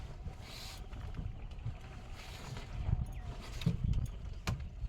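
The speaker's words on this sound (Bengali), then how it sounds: "আমাদের নৌকাটা কিন্তু পালের সাহায্যে যাচ্ছে।" A large wooden sailing boat moves under sail on the Garal river, giving a steady low rumble and wash of water and wind with occasional knocks and creaks, and no talking.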